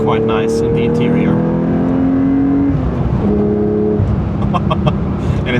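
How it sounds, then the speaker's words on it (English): Porsche 911 with a 500 hp engine and manual gearbox, heard from inside the cabin as it accelerates: a steady, loud engine drone with rising tones that climb and then drop at a shift, with people talking over it. "I also think the car sounds quite nice in the interior."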